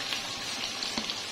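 Fish frying in hot oil, crackling and popping with spatters close by. The sizzle is steady with a few sharper pops, and no one speaks.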